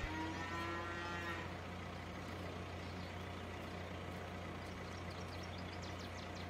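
Cattle moo loudly in a Farming Simulator dairy barn with a bull among the cows, a long low call near the start over a steady droning machine hum, with faint clanks later.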